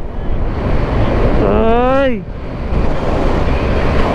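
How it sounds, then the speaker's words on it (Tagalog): Strong wind roars steadily over the microphone while riding a motorcycle on a north Luzon road trip, with a brief rising shout cutting through midway. "Lakas ng hangin lang."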